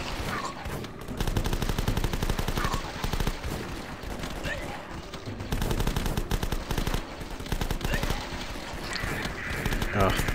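Enemy runners fire guns in The Last Stand video game, dense rapid bursts of loud gunfire rattling almost nonstop with brief gaps.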